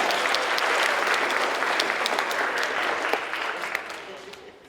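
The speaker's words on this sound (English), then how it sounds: "Can we give him a round of applause?" An audience at a university talk gives a round of applause for a student who wants to be an artist, a dense, sustained wash of clapping that slowly tapers off near the end.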